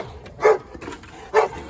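A Boerboel puppy gives two short, sharp barks close by, spaced about a second apart with quiet between them.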